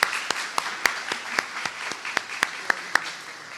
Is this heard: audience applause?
yes